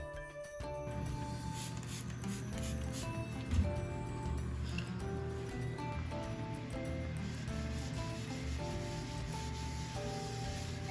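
A melamine sponge scrubs stained bathroom tiles with a close, soft rubbing rasp in repeated strokes, heard faintly under steady background music.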